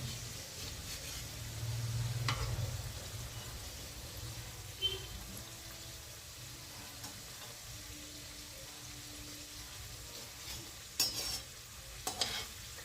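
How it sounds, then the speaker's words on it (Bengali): Cauliflower singaras fry in oil and are turned over to cook the other side. A soft, quiet sizzle runs throughout, broken by a few scraping stirs and light clatters of the utensil, with no talking. "এবার অপর সাইডটা উল্টে দিচ্ছি ভেজে নেওয়ার জন্য"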